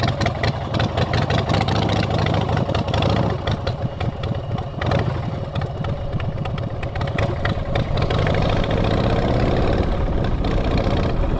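A motorcycle engine idles close by with a steady, loud mechanical rumble and faint rhythmic pulsing that holds evenly from start to finish with no talking.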